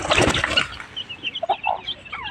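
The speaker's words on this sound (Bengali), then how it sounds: "এই যে আমাদের দেশি মুরগির বাচ্চাগুলো," Young native chickens cluck and peep in short, scattered high calls nearby, after a brief louder burst at the start.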